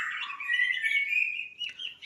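A caged cucak ijo (green leafbird) sings a loud, close, continuous run of bright whistled notes that holds steady for over a second and a half, then breaks into quick chirps, with no voices.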